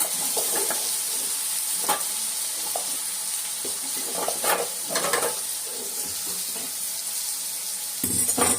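Spices tempering for kara chutney, sizzling and frying steadily in a hot pan with a few stirring clatters, close and continuous with no talk.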